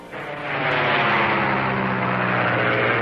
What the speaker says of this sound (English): Listen. It's an airplane.